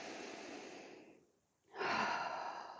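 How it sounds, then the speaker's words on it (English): Slow deep breathing during a Kundalini yoga grounding exercise: a long soft exhale, a brief pause, then a fuller inhale close to the microphone in a quiet room. "Take a few deep breaths."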